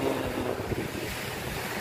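Strong sea waves churn during a typhoon, a dense continuous roar of surf and wind buffeting the microphone, loud and unbroken with no voices.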